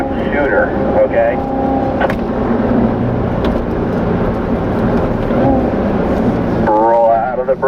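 A race car's engine drones and shifts pitch as it is driven through corners on the Spring Mountain Motorsports track, a constant close roar with an instructor's voice talking over it.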